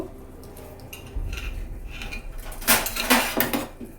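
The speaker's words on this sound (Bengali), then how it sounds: "আমি ব্রেডগুলোর সাইডগুলো কেটে নেব" A knife trimming the crusts off slices of sweet milk bread in a home kitchen, with a few close clinks and scrapes against a plate or board, the contact growing louder toward the end.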